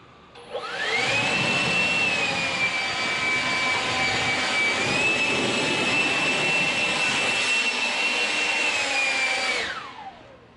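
A Kobalt 24-volt 540-cfm battery leaf blower spins up with a rising whine, holds a loud, steady high-pitched rushing roar for about nine seconds, then winds down.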